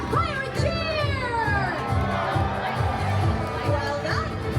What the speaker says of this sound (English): let us hear a loud pirate cheer!